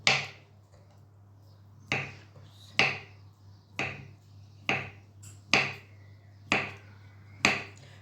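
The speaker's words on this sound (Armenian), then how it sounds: "Սենց փոքրիկ կտորներ ենք անում։" A knife chops a ripe banana into small pieces on a board: about eight crisp, evenly spaced taps roughly one per second, close and clear over a low steady hum.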